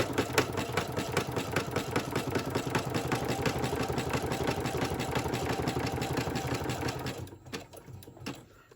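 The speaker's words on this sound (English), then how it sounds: "Just start at the top and just sew all the way down." A sewing machine stitches steadily down fabric calendar pages for a Christmas countdown calendar, a fast rhythmic mechanical chatter that runs loud and close before stopping near the end.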